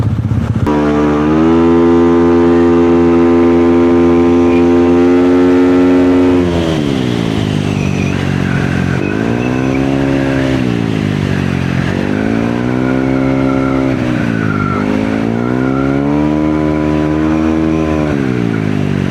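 A motorcycle with an oil leak revs up and down close by, its engine note rising and falling in several smooth throttle swells after a steady idle-like hold, loud and alone.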